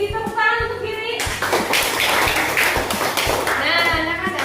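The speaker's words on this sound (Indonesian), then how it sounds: "tepuk tangan untuk Giri" Children in a primary school classroom clap for a classmate, a short burst of close hand claps breaking out between stretches of a teacher's voice and young voices.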